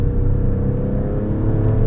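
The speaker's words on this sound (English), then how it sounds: "this V6 just sings a wonderful melody" A 2022 Alfa Romeo Stelvio Quadrifoglio's V6 engine drones steadily from inside the cabin while driving, a close, loud, even low rumble with a slight rising whir and no talking.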